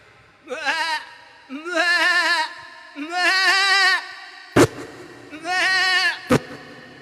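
A human voice imitates a male billy goat bleating, giving four quavering, nasal bleats in turn with two sharp clicks between the later ones. The calls are close and loud, with no talk.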